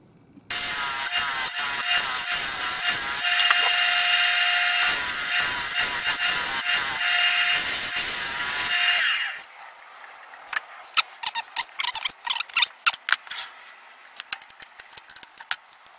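A lathe turns a wooden part while a tool cuts away its wall, giving a steady, loud, bright hiss for several seconds, then fading to scattered clicks and taps.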